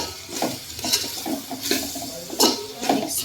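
Noodles are stirred with noodle masala and soy sauce in a pan, a series of scraping, clinking strokes of a utensil against the pan over a faint sizzle, repeated roughly every half second, close and clear.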